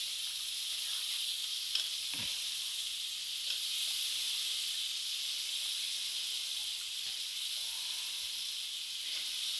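Cut potatoes frying in a pan for an aloo tamatar shimla mirch sabzi, giving a steady, even sizzle with a few faint clinks.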